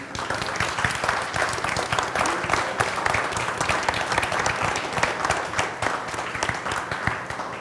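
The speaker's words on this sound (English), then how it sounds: "A round of applause." Audience at a Civil Beat public forum on whether Hawaii should hold a constitutional convention applauds the panel speakers, sustained dense clapping from a roomful of people at moderate level, with no talking over it.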